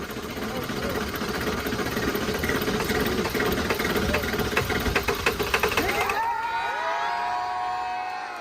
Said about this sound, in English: the first ever Ford F-250 to run off of plastic waste